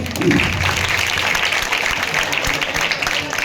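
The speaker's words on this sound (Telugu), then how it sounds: "క్లాప్స్" Steady applause from a crowd at an Independence Day celebration fills the whole stretch, a dense wash of many hands clapping at once with no clear individual claps.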